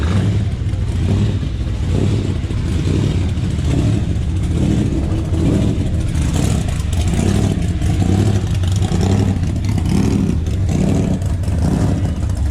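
A loud LS V8 engine in a truck rumbles and revs continuously, deep throaty idle rising and falling in pulses, close by with no talking.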